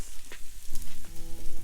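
Steaks sizzle loudly in a hot pan, a close, continuous crackling fry with bursts of spitting fat and faint clinks, with no talking.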